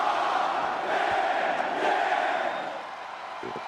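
In the WWE 2K22 wrestling video game, an arena crowd roars and cheers in a steady, dense wash of noise that stays loud throughout and eases slightly toward the end.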